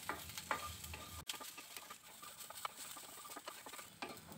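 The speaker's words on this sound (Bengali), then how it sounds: "নেড়েচেড়ে আমি এই রসুনগুলো একটু টেলে নিব" Garlic cloves being stirred and roasted in a pan for a mashed garlic dish, a soft crackling sizzle with scraping stirs and one sharp clack, fairly quiet and close.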